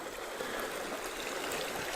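A swift river current, where the Mississauga River flows out of Bark Lake, rushes steadily with a broad, constant wash of moving water, close and continuous with no talk.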